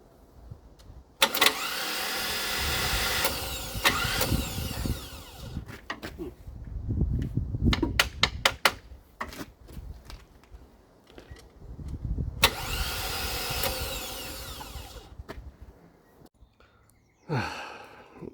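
Starter on the 454 engine of a 1956 International R180 whirring in two long bursts, with clicks and clunks between them and no catch, close and fairly loud.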